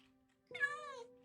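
One short, fairly quiet cat meow rising and falling over about half a second, over a steady low background hum.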